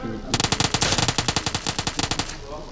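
Rapid automatic gunfire in the battle royale game PUBG, a loud sustained burst of about twenty evenly spaced shots, with players' voices faintly present.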